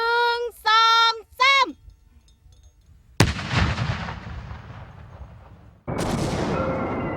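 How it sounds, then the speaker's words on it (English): Two unexploded cluster bombs are destroyed by controlled detonation on an empty plot beside rice fields in Laos, heard as two loud, sharp blasts a few seconds apart with rumbling decay, after a brief distant voice-like tone earlier. "5 unexploded bombs are about to be destroyed"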